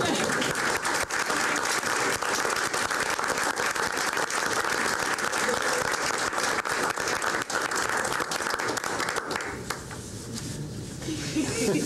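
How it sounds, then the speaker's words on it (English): Applause for student relay runners at a 1997 school board meeting, a roomful of steady clapping lasting about ten seconds, thinning slightly near the end. "a round of applause for these ladies"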